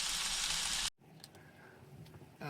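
Food sautéing in a pan inside a small camper van, a loud dense sizzle that cuts off abruptly, followed by quieter faint clinks and rustles before the sizzle swells back at the end.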